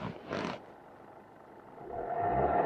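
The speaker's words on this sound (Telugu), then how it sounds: "వెహికల్ స్టార్ట్ చేస్తున్నా. ఆర్పిఎం కూడా చాలా స్మూత్ ఉంది" A 2018/19 Maruti Swift VDI diesel engine catches after a short cranking burst, then idles low and steady before its rumble swells slightly toward the end, heard close with no voices.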